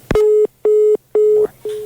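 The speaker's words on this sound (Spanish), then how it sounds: "se cortó. Bien, sí, el teléfono fijo tiene un tiempo" A landline telephone busy tone after a cut-off call, four evenly spaced loud beeps in a regular on-off rhythm, close and clear.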